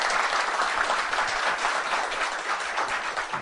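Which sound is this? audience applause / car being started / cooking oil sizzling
audience applause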